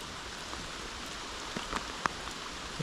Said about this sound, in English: As you can see, it is raining really bad.